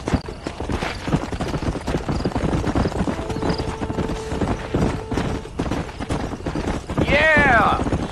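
Horse hooves clip-clop steadily in the Red Dead Redemption video game, a continuous trotting rhythm under background game sound, with a brief horse whinny near the end; no talk over it.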